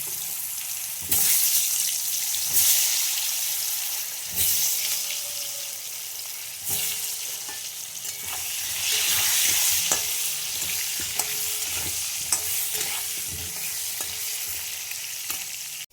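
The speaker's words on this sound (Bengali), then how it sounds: "আলুগুলো ভাজা হয়ে গেছে" Potato pieces fry in hot oil seasoned with turmeric and a little salt, a steady close sizzle broken by frequent spoon scrapes and clicks against the pan as they are stirred.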